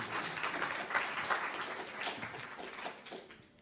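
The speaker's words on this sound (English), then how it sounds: "Round of applause" A brief round of applause from a small audience at a student electoral debate, steady clapping that fades out toward the end.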